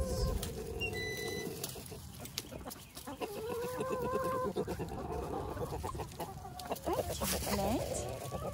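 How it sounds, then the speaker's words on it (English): Backyard chickens cluck and call around a rooster, whose crow rises partway through, close and fairly loud, with a person talking and outdoor noise underneath. "There's my other rooster, Slater."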